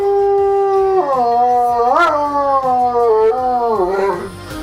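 A dog howls close and loud in a series of wavering, sliding notes with two sharp upward yelps, fading slightly at the end, heard on its own without speech.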